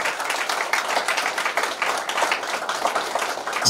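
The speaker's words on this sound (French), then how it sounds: "Est-ce qu'on peut encore monter le tourisme sur les applaudissements" Applause from a conference audience at a trading tour event, a dense, continuous wash of many hands clapping close and loud with no voices over it.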